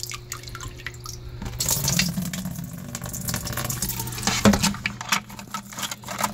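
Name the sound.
water draining through SunSun 304B canister filter trays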